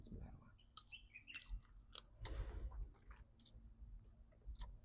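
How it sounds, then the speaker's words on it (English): Fresh herbs being chewed up close, with moist crunching and clicking bites in an irregular rhythm, faint bird chirps in the background. "Like you can see, I'm chewing it."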